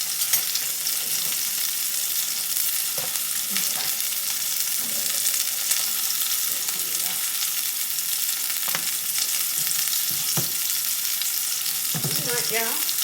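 Pepper steaks sizzling steadily in a hot frying pan, a continuous bright crackling hiss throughout with occasional utensil scrapes and clinks near the end.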